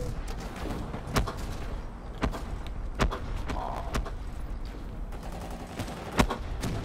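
Rapid bursts of ICR rifle fire in a first-person shooter video game, sharp repeated cracks spread across the clip over a dense background of game noise.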